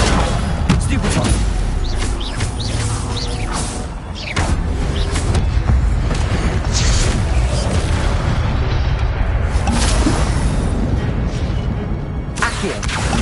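Rapid barrage of magic spell blasts and impacts from combat in the Hogwarts Legacy video game, including a Stupefy stunning spell, booming continuously and loudly for the whole stretch with a voice shouting spell names over the clamor.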